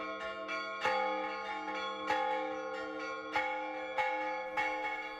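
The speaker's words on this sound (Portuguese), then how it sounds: "a gente começou a tocar sino." Church bells in a town in Minas Gerais, Brazil ringing alone, with strong strikes about every second and a rich, sustained ringing tone carrying between hits.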